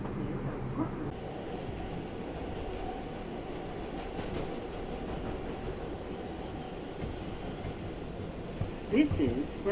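A New York subway train, an R142 car, rumbles between Brooklyn stations with a steady low roar and faint clatter of the wheels, and a brief squeal near the end.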